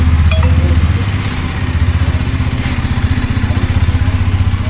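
A Bajaj Dominar 400 motorcycle engine runs right after a general service, idling with a steady, loud, close throbbing beat that holds evenly throughout, with no talking.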